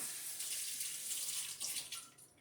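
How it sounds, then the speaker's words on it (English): Tap water runs steadily over a wine airlock and rubber bung being rinsed after soaking in sanitizer, a close, continuous splashing hiss that shifts slightly as the parts move under the stream. "I'm going to rinse it with water"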